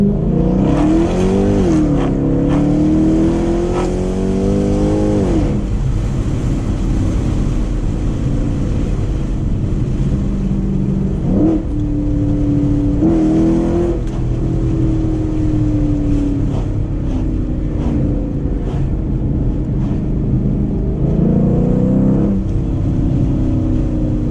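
A cammed 2006 Chrysler 300C SRT8 revs hard to around 4,000 RPM, its rough, lopey exhaust loud and close, pitch sweeping up and down in repeated pulls, continuous.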